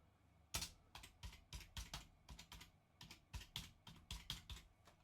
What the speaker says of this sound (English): So we type the command.